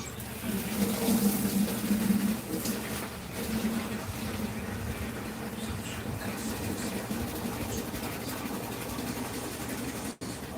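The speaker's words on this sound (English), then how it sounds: "Let me go fill this blue bucket up with water real quick." Tap water runs into a blue bucket with a steady, close rushing splash that holds throughout, louder at first and then evening out, over a faint low hum.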